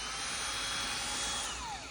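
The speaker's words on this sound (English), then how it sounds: "Push it on the back of the drill." Power drill whirring during a truck rain-leak repair on a Dodge Ram, a sustained high motor whine across the whole span that eases slightly at the end, with no voices.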